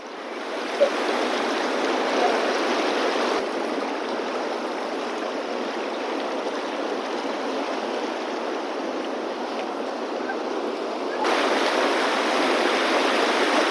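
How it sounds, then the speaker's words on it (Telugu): A strongly flowing river in Nepal, a steady, close, full roar of rushing water running unbroken and fairly loud throughout, growing slightly louder near the end, with no voices. "నది ఎలా ప్రవహిస్తుందో చూడండి ఫ్రెండ్స్."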